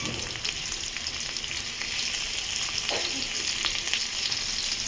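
Garlic and green chillies fry in oil in a pan, a steady close sizzle with a few soft stirring clicks, fairly quiet and without speech.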